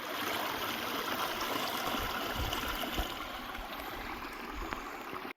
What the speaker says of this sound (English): Got this nice running water back there.